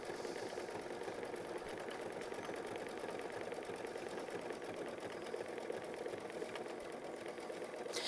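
An embroidery machine runs a heavy triple stitch, a steady fast mechanical whirring and clatter that holds at an even level throughout with no pauses.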